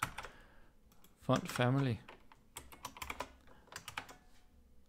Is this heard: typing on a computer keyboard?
yes